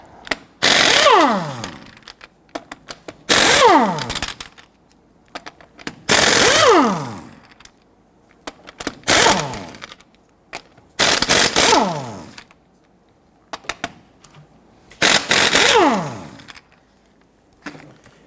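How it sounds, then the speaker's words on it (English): An impact wrench with a 19mm socket loosens lug nuts on a Hummer H3 in six loud, close bursts of hammering rattle, each about a second long and separated by short pauses. "Using a 19mm socket, I'm going to go ahead and loosen and remove our lug nuts."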